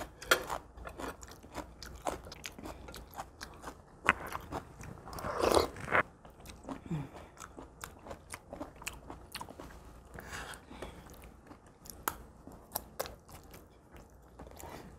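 Crisp, crunchy bites and chewing of Pyongyang-style white kimchi at a meal, close and clear, with irregular repeated crunches and a few louder bites over about fifteen seconds.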